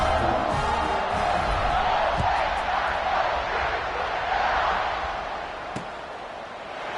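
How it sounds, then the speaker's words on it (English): A large crowd at a college football game in the stadium of the Illini buzzes and roars continuously, a dense wash of voices that swells and eases, with a sharp knock standing out near the end. "this crowd is buzzing after that last score"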